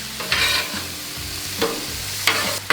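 Shrimp with soy sauce and fresh lemon juice being tossed on a Pit Boss griddle for hibachi: a steady sizzle with three bursts of scraping and stirring as the food is turned, no voices.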